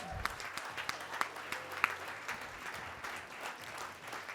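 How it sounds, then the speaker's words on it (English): Applause from an audience at a civil rights champions awards event, a faint, steady wash of clapping heard from a distance, with a few sharper claps standing out. "Give him a round of applause"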